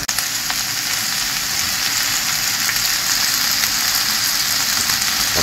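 Cut potatoes stir-frying in a coated frying pan give a loud, continuous close sizzle with a faint low hum underneath and no talking.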